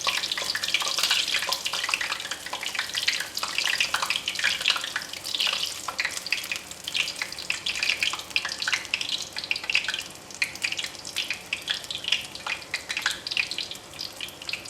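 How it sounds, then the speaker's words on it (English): Battered oyster mushrooms deep frying in hot oil give off a steady, close, busy crackling sizzle that runs unbroken the whole time, with no voices. "Flip the oyster mushroom when the center batter appears cooked and continue to fry until batter turns golden brown."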